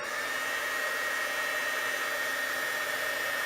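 A steady, loud electric heat embossing gun whirs and hisses continuously without pause, like a small hot-air tool running close by.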